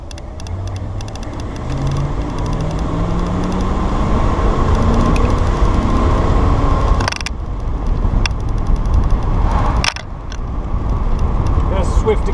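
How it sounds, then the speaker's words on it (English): A 1973 Ford Mustang convertible with a 351 V8 pulls away hard, its engine note climbing steadily through the gears, loud and sustained from inside the car, with a couple of brief knocks and rattles toward the end. "Swift acceleration from the 351."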